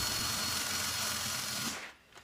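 A power drill whirs steadily while boring a couple of small holes, a loud continuous buzz that cuts off abruptly near the end, leaving near silence.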